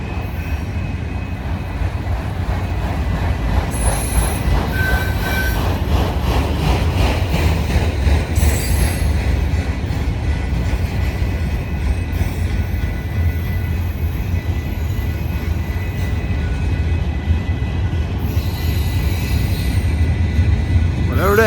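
A long freight train rolls past close by on the Sublette Avenue line, a loud continuous rumble of cars and rail joints with high wheel squeals coming and going throughout.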